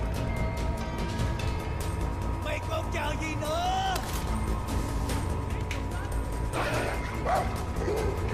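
A dog barks and yips in the Far Cry 5 video game over dense game sound effects and music. The short barks come in scattered bursts amid a constant busy background, and voices talk at times.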